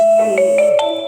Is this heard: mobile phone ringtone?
yes